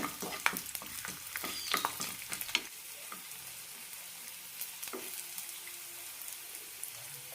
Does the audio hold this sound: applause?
no